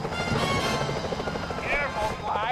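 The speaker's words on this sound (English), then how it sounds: "Those security choppers are bad news." A security helicopter in the PlayStation 3 game Sly Cooper Thieves in Time, its rotor buzzing and chopping loudly and steadily while a voice speaks over it.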